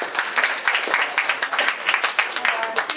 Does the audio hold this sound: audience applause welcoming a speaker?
yes